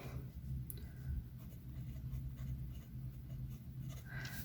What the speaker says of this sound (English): I can't talk and write at the same time.